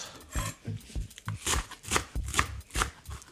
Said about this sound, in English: we're going to take the stems from the cilantro and throw them up in here to get that flavor. Give it a chop.